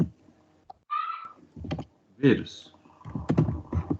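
Rapid keyboard typing as a search is entered on a computer, clustered keystroke bursts with pauses between them, heard close up while a person speaks over and between the key presses.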